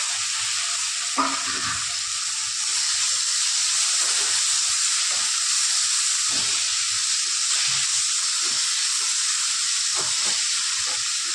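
Tomatoes sautéing in a pan for a snake gourd rice dish: a steady, close sizzle and hiss with occasional soft stirring scrapes, no talking.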